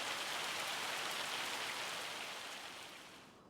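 Steady dense hiss of rain or hail falling in Farming Simulator 25, continuous and broadband, gently fading toward the end with no voices.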